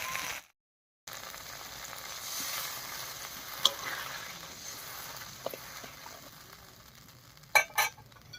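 Spice paste and water sizzle and fry in a pan for a village-style egg curry with cauliflower, a steady low hiss carrying on alone with a few stirring clinks and a clatter near the end.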